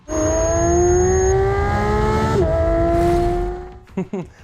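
A Porsche 911 992 GT3's 4-liter flat-six engine revs high and sustained toward 9,000 rpm, its harmonic whine rising, dipping briefly, then dropping off near the end with a couple of short blips.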